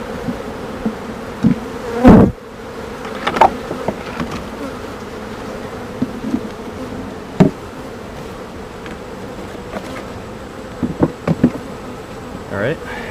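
Honeybees buzz steadily around an open hive while a beekeeper splits the colony, a close, continuous drone with a few sharp knocks and clicks scattered through it.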